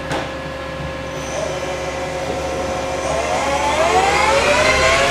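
A Takisawa EX108 lathe spindle running up, a steady machine whine with tones that rise in pitch as it ramps toward about 400 RPM, close and continuous with no talk.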